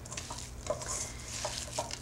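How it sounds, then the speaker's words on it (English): A hand works through a samosa filling in a bowl, making soft, quiet, irregular squelches and rustles close by, with a low hum behind them. "use your hand to mix it well"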